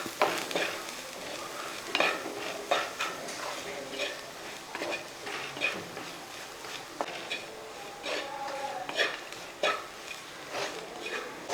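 Soya chunk curry masala being stirred in a frying pan, a spoon scraping and knocking repeatedly against the pan over a steady low sizzle, close and fairly loud with no talking.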